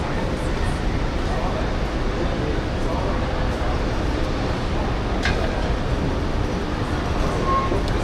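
Inside Morocco's high-speed bullet train as passengers board, a steady dense rumble and hum of the carriage fills the space with a few faint clicks and knocks, and voices talk faintly under it.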